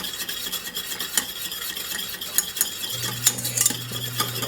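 A whisk stirs lemon juice into melted butter in a pan with quick, rhythmic scraping and swishing strokes, fairly close and moderately quiet, alongside a faint low hum and no talking.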